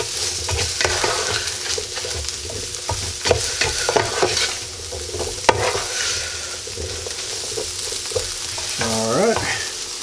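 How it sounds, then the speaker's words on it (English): Potatoes for home fries frying in a pan with steady sizzling, broken by repeated scraping and clacking as they are stirred, close and moderately loud. "Get it all stirred in there to get the potatoes coated."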